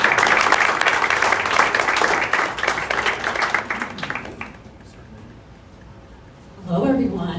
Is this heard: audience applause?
yes